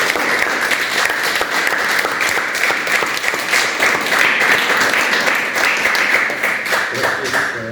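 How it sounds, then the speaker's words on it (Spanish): A large audience breaks into loud, sustained applause with crisp, continuous clapping throughout, fading slightly at the end. "Vamos a darle un aplauso."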